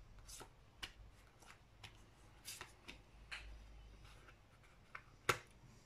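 Brand-new playing cards that stick together being shuffled, quiet and close, with a series of sharp riffling snaps and flicks at an uneven pace, one louder snap near the end.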